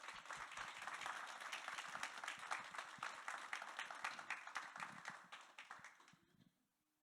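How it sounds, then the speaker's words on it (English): Audience applause at a research institute talk, a dense steady burst of many hands clapping from a crowd that holds strong for about six seconds before fading out. "Please can we give Vudi a big round of applause."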